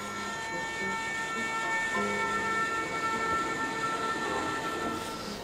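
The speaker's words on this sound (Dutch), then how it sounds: "maar de treinen rijden nog steeds." A train rumbles past steadily on a railway line near a former station site in Waddinxveen, a continuous rolling drone with faint tonal squeals, moderately distant and without speech.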